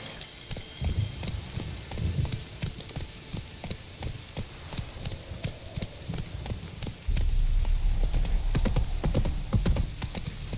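Horse hooves trotting in The Witcher 3 video game, a quick steady clip-clop close by, with rain and a louder rumbling wash joining in the last few seconds.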